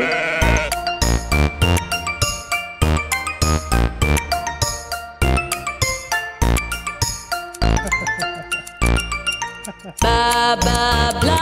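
A sheep bleat voiced in a children's nursery rhyme song about a black sheep and bags of wool, set in busy music with steady percussion and sung phrases throughout.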